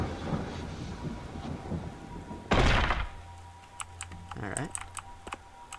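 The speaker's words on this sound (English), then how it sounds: "Ooh. It's raining." Rain falling and a burst of thunder in the horror game Kraven Manor, a soft steady patter with one loud crack midway, mixed with keyboard taps and clicks.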